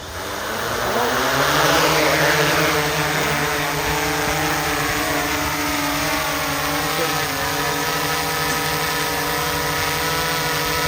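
A DJI Inspire 2 drone spins up and hovers, its rotors producing a loud, steady multi-tone buzz that swells as it lifts off and then holds evenly.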